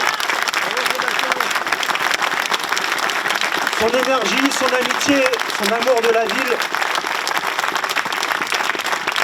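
Dense audience applause fills a French municipal election victory gathering, a loud continuous roar of clapping while someone speaks over it through the middle.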